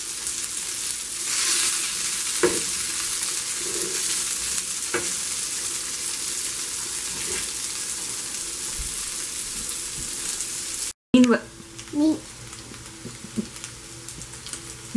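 Fish pieces fry gently in a pan over low heat, a continuous soft sizzling hiss with a few faint taps, then after a brief cut some closer clinks and irregular frying crackles; no one speaks.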